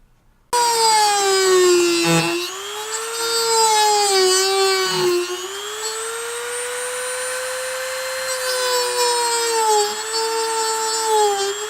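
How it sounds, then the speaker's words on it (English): A Dremel rotary tool grinds at a steady high whine on a Subaru Forester exhaust near its welding points, the pitch dipping briefly under load a few times and running continuously close by with no talking. "we'll get the Dremel out and we'll just kind of go from there"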